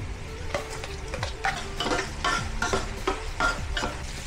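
Garlic fries in oil for Ilocos igado, sizzling close by while a utensil stirs and scrapes the pan in repeated clinking strokes about every half second, with no voices.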